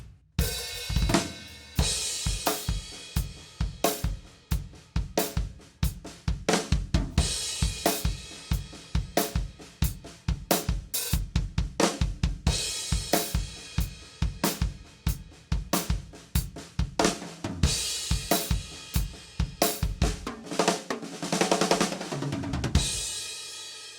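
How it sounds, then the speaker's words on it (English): Drum kit plays a 2-over-3 polyrhythmic groove with the snare landing on beat two, steady sharp hits and cymbal wash repeating alone for about twenty seconds before stopping. "if I put the snare drum on the 2, it sounds like this."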